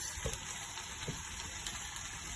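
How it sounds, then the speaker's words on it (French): Carrots dropped into a pot of simmering broth for chicken couscous with chickpeas, a steady close bubbling and sizzling hiss with a couple of soft splashes. "Donc, je vais mettre d'abord les carottes"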